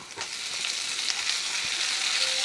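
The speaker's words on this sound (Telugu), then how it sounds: "ఉల్లిపాయలు అవన్నీ వేగాయి కదా, ఇంకో టమాటా." Onions and tomato fry for a fenugreek leaf (menthikura) curry, giving a loud, close, continuous hissing sizzle with faint stirring movement and no voices.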